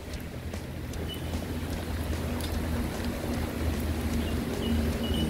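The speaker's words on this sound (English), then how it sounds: "Pretty big storm, lots of high wind gusts." Continuous blustery storm wind roars and buffets at moderate volume, with a low rumbling undertone and occasional faint clicks.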